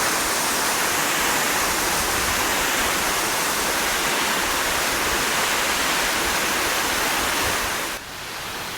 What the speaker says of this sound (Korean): 바로 전 폭포 상단이거든요. 여기는 또 쌍폭이 있네요.